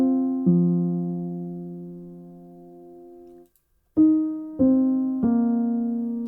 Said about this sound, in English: piano, but this time it's a counter melody.